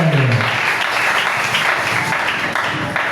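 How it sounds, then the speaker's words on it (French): A church congregation applauds loudly and steadily at a Sunday evangelical service, with dense continuous clapping filling the space. "Acclamons pour le Seigneur."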